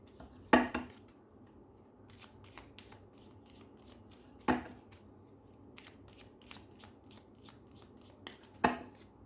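A deck of tarot-style cards being shuffled by hand at close range: three quick riffling bursts spaced a few seconds apart, with soft card taps and handling sounds in between.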